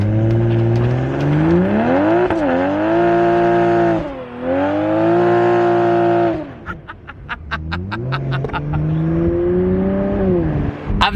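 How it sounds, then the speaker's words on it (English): A Toyota Supra revs hard through a burnout, its loud engine note climbing and dipping in long sustained sweeps, briefly easing around four seconds before surging again, with a rough, crackling tail near the end. "All right, another burnout, because why the heck not?"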